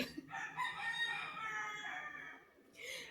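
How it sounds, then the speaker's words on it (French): Chickens call faintly in the distance, a drawn-out crowing cluck with a few short sounds around it. "si vous entendez des poules, c'est normal"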